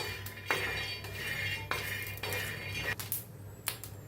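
Metal clinks and scrapes as green chillies and split peanuts are stirred and roasted in a pan, with several sharp spoon-on-pan knocks over a low steady hum, close by and without talk.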